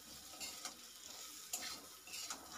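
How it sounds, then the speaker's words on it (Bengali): Quiet scraping strokes stir Kashmiri chilli, cumin and coriander powders into potatoes and okra frying in a pan, several soft bursts of stirring over a faint sizzle. "তো সব মশলাগুলো দেওয়ার পরে আমি সবগুলো একসঙ্গে মিক্স করে নিচ্ছি।"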